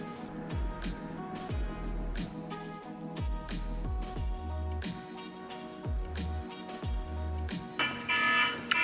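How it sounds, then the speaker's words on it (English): A repeating electronic alarm pattern, steady and rhythmic with a sequence of short tonal bursts, moderately loud throughout and with no speech. "There's my alarm."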